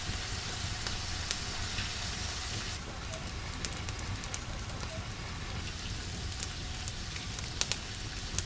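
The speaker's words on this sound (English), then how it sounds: "We sear them for a minute." Mushrooms and cranberries sear in an outdoor pan for a wild boar stew, giving a soft, steady sizzle with faint crackles, quiet and even throughout.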